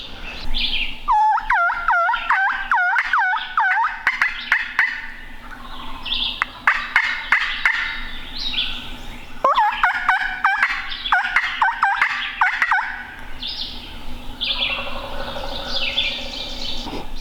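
Wild turkeys gobbling on a wooded ridge in the Hocking Hills during a turkey hunt, with repeated loud, rattling gobble bursts, some overlapping, amid other birdsong across the outdoor soundscape.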